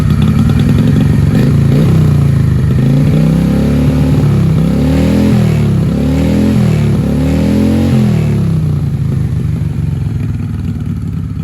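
A 1995 Honda Shadow VLX 600 V-twin motorcycle runs close and loud, with a steady deep idle rumble and a brief series of throttle blips in the middle.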